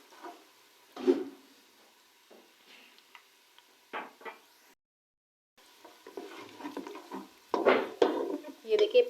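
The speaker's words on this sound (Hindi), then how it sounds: "चम्मच को जो है आपने साथ साथ हिलाते रहना है।" A spoon stirs shahi degi korma with onions and a bay leaf in a pot, scraping in bursts of varied loudness over a soft sizzle, with a short silent gap partway through.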